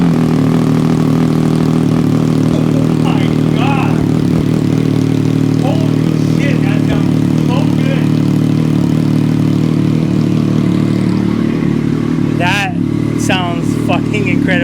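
Triumph Daytona 765 Moto2 motorcycle engine running at a loud, steady idle, a deep rumbling drone close by, with excited voices talking over it.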